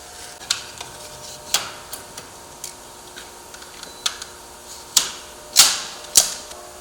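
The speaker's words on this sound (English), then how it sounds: "Now that we have cut our shims" Wooden door shims being cut during a new construction door installation, heard as a series of sharp, separate cracks and snaps spaced irregularly, growing louder toward the end, with no talking.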